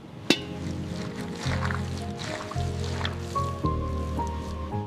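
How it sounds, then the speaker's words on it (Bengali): Chicken mince is kneaded by hand with soaked bread and a little oil in a village kitchen, giving soft, wet squishing and squelching sounds with small sticky clicks, close up, while a steady tonal background hum runs underneath. "সামান্য তেল দিয়ে ভালো করে মেখে নিতে হবে"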